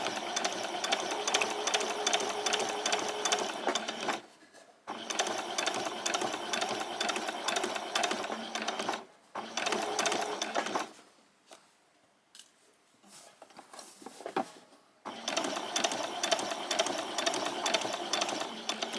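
Sewing machine stitching a summer top, running in three long steady bursts separated by short pauses with faint handling noise, the motor whirring loud and close.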